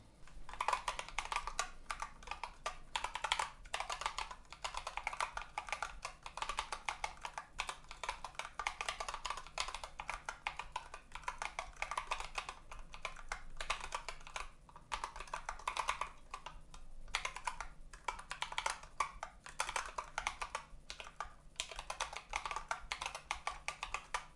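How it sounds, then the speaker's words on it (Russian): Steady, rapid typing on a Dactyl Manuform split ergonomic keyboard, with a continuous close-up stream of key clicks and taps over about twenty-four seconds. Nobody speaks. "печатать на этой клавиатуре я могу очень только медленно"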